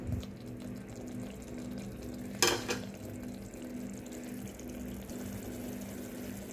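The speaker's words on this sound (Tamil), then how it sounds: "நல்லா கொதித்து தக்காளியெல்லாம் நசுலாம் மசிஞ்சு வந்துருச்சு" Bottle gourd curry with tomatoes simmering in a pan makes a steady, soft bubbling and hiss, broken once by a brief sharp clink partway through, with no talking.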